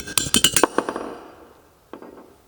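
A hammer strikes a valve guide in an engine cylinder head under rebuild. About ten rapid metallic taps ring out close by, then fade. After a short pause, one more lighter tap follows.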